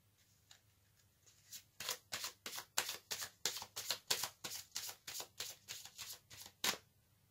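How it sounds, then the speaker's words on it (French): Aromatic oracle cards being shuffled by hand, a rapid run of crisp riffling flicks in a steady rhythm, close and fairly loud, with a single card drawn at the end and no talking. "Alors maintenant, je vais tirer une carte de l'oracle aromatique."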